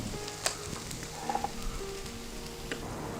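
Onions and ginger-garlic paste sauté with salt in a pan, a quiet steady sizzle with a few soft clicks and scrapes of stirring, no talking.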